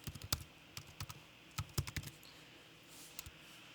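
Keystrokes on a computer keyboard entering an email address, quiet and close, in irregular bursts of quick clicks with short pauses between groups.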